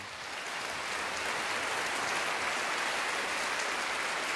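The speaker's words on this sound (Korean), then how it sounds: "한번 박수를 한번 쳐보세요" Audience applause at a book concert event, a dense steady wash of clapping that rises quickly and holds at full strength throughout without a break.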